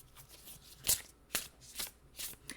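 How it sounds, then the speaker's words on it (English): A deck of oracle cards gets a quick shuffle, with four or five crisp riffling bursts spaced about half a second apart, close and fairly quiet, with no talking. "Let me give these a quick shuffle."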